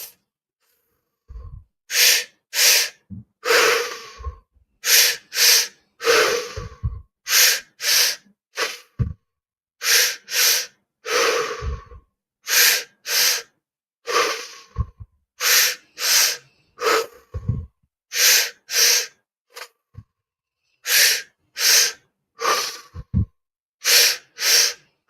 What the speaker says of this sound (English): get back into breathing.